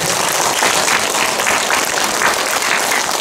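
Audience applause at a Korean filial-piety lecture event, a dense sustained wash of many hands clapping at steady loudness throughout, with no voices over it.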